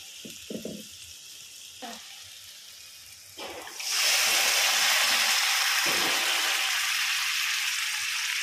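Quiet stirring and clatter, then at about four seconds a loud burst of sizzling as pav bhaji vegetables land in a hot pan of spices, continuing steadily to the end.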